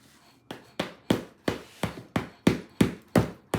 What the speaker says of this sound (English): I'm gonna use that hammer because I am getting weaker